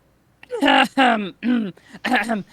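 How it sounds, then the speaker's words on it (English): A man gives an exaggerated, theatrical throat clearing in four loud, voiced bursts, each a gruff rasp separated by short pauses, close to the microphone. "He starts like obnoxiously clearing his throat."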